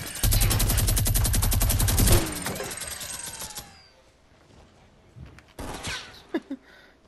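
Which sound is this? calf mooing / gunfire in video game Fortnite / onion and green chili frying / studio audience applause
gunfire in video game Fortnite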